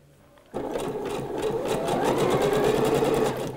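Sewing machine running a zigzag stitch over elastic thread on a dress, starting abruptly and humming loud and steady at close range with a fast repeating stitch rhythm.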